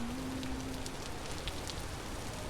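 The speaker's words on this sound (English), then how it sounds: "I'm soaking wet because I'm out standing out in the rain" Steady rain pattering in the video game Vintage Story, a soft continuous wash of drops with faint scattered ticks, even and unbroken throughout, no talk.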